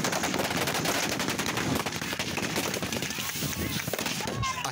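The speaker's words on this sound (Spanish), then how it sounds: "Los primeros disparos que se escuchan en este video corresponden a una ametralladora M60, seguida por disparos de fusil Galil." An M60 machine gun fires rapid bursts, followed by Galil rifle shots, a dense, crackling string of reports that sound somewhat distant and run continuously from start to end.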